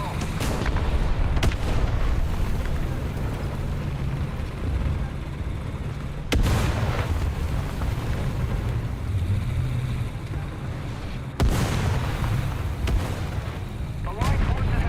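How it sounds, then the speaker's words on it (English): Repeated booming artillery strike explosions in War Thunder ground battles, loud rumbling blasts with sharp onsets around six and eleven seconds over continuous heavy battle noise and engine rumble. "Artillery strike incoming!"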